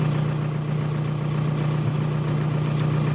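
A 1999–2003 VW TDI diesel engine (ALH) idles steadily in a workshop after an injection pump timing repair, a loud, even low hum with constant vibration and no talking.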